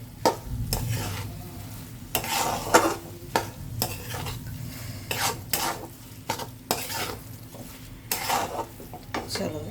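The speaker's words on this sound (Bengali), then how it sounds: "এর সাথে 1-2 মিনিট ভালো করে এটাকেও একটু ভেজে নেব" Pulao rice frying in a wok with a quiet sizzle, while a utensil scrapes and stirs it in repeated strokes that knock against the pan, close and alone.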